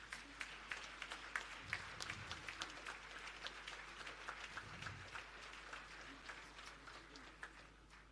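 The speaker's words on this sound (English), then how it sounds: "Please give a big applause." An audience applauding a speaker at a private event in Coimbatore, a dense sustained patter of clapping from a crowd heard at a distance, fairly faint and even throughout.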